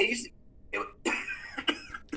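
A few sharp coughs and throat clearing in quick bursts, close by, mixed with short bits of talking.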